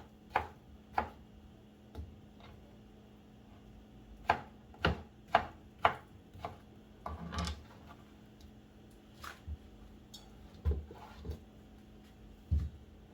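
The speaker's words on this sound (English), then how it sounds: "the same knife you're going to be using to cut the plantain itself" A knife chops plantain on a cutting board for gizdodo, a series of crisp irregular taps close by, some quick pairs and clusters, with short pauses between.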